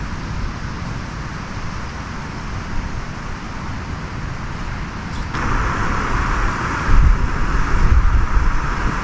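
Strong wind gusts blow on the Estonian coast during a cycling trip, with steady broadband rushing and buffeting against the microphone. The roar grows louder and heavier partway through, with thumping gusts toward the end.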